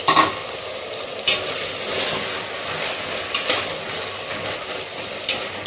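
Masala for country chicken biryani being stirred and fried in a pan, a steady sizzle broken by repeated scraping strokes of the spoon, close and alone without speech.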